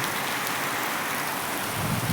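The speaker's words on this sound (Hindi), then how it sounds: "ज़बरदस्त पानी गिरा थे" Heavy rain falling in a village, a dense steady hiss of downpour with a faint low rumble at the end, loud and continuous with no talk.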